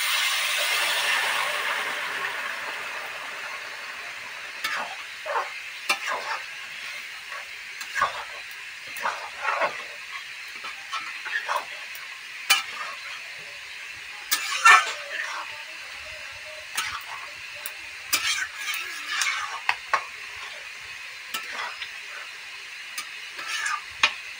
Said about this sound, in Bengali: গরম জল নিয়ে এবার গরম জলটা দিয়ে দেব